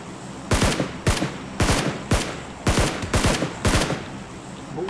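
Gunfire in PUBG Lite: seven loud, sharp shots in quick, uneven bursts, some close together in pairs, each with a short ringing tail over a low background hum.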